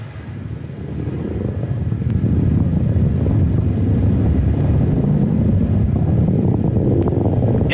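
An Antares rocket's first-stage engines roar during a launch at NASA Wallops Flight Facility, heard from a distance as a broad, steady low rumble that swells over the first couple of seconds and then holds constant.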